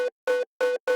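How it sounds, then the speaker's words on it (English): Four short, tonal snare hits in quick succession, evenly spaced and bright, with a ringing pitched body and clean silence between them. "I just found this super cool snare that sounds like this"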